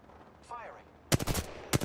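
Gunfire in a video game: several sharp, loud shots in a quick burst, a short pause, then one more shot, preceded by a brief synthetic game tone.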